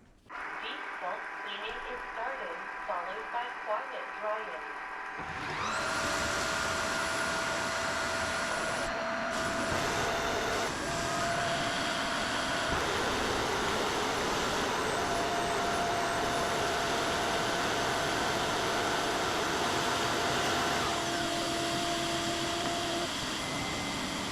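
Roborock F25 GT or Tineco wet dry vacuum mop running through a cleaning cycle, starting up after a quiet moment and then holding a loud, steady whirring motor drone with faint tonal whines riding on top.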